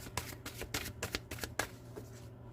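Tarot cards are shuffled close up in a quiet room, a quick run of soft riffling slaps and flicks lasting a couple of seconds before trailing off.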